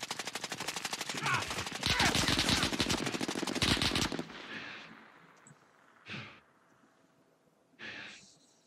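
Rapid automatic gunfire in the Call of Duty Warzone video game, dense and loud for about four seconds, followed by a couple of short separate bursts.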